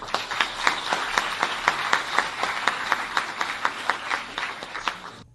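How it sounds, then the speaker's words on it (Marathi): Rhythmic, unison clapping from an audience at a radio station seminar in Pune, evenly spaced claps at a steady beat over a quiet room, fading out at the end. "त्यांच्यासाठी पुन्हा एकदा आभाराच्या टाळ्या"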